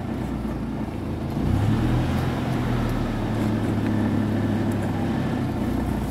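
A small engine, likely a Polaris Ranger utility vehicle, golf cart or Kubota diesel tractor, idles steadily after a cold start, a continuous close low rumble that settles into an even idle with a slight rise in pitch partway through.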